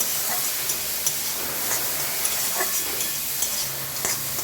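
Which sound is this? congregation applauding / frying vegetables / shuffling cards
frying vegetables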